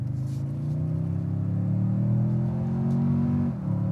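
A Toyota Tundra TRD Off Road pickup with a twin-turbo V6 accelerates at full throttle, a loud, steady engine drone climbing smoothly in pitch for over three seconds before dropping off sharply as it shifts or lifts.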